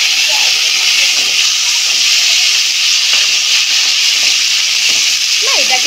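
Boiled chickpeas and green chilies fry in a pan, giving a loud, steady hiss of sizzling oil throughout, with faint scrapes of stirring underneath.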